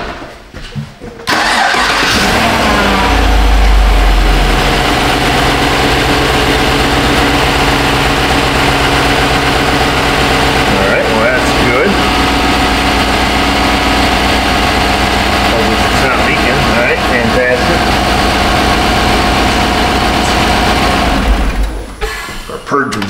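A car engine cranks and catches, then settles into a steady mid-pitched idle that runs loud and unbroken for about twenty seconds during an EVAP leak check for a possible stuck-open purge valve, with voices talking over it.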